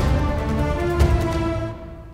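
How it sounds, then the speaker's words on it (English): Sustained orchestral string ensemble holds a rich chord while short, bouncing double bass spiccato notes pulse underneath, then the sound cuts off. "just the strings and the double bass spiccato sounds like this"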